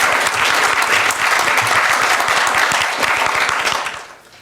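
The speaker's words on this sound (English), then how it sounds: "Give him a clap." Sustained audience applause at a cyber security conference on the Internet of Things, a dense, even wash of clapping from a seated crowd lasting about four seconds before tapering off.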